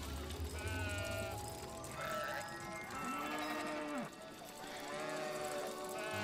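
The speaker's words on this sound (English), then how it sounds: "And get on this other cow over here" Cows moo in the video game It Takes Two, several drawn-out, wavering lowing calls overlapping one another, fairly close and alone, with a bleating quality.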